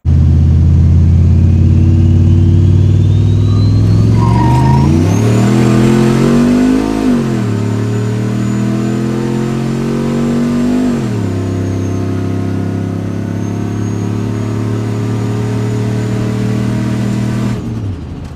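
An AWD Chevrolet Silverado truck fitted with an FTI 3200 stall converter launches on a quarter-mile run, its engine roaring loud and close as it climbs through rising revs, drops at shifts and pulls hard again.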